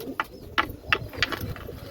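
Pigeons coo close by, several soft throaty calls in a quick uneven series, with faint background noise.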